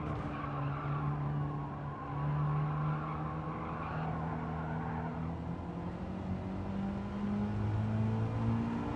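In Gran Turismo 7, a car drifts into oversteer during a Sunday night time trial, tires squealing in long wavering tones over a constant engine drone, loud and near, with no voices.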